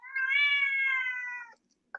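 A cat gives a single clear, drawn-out meow lasting over a second, close and tonal, followed by a brief faint chirp.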